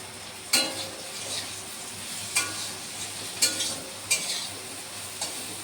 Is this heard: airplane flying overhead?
no